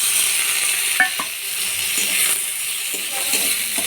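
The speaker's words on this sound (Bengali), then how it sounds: "পেঁয়াজগুলো ভাজা হয়ে গেছে বাদামি করে ভেজে নিয়েছি" Browned onions and chopped tomato sizzle steadily in a hot pan while a utensil occasionally scrapes and taps against it.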